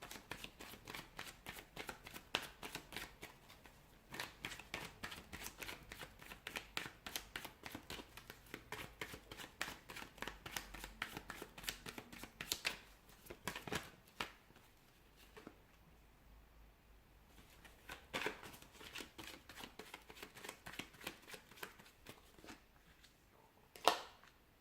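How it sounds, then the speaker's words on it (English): Tarot cards being shuffled by hand, a long run of close, soft riffling and flicking bursts with brief pauses between passes and no talk over it. "give the cards a shuffle and begin"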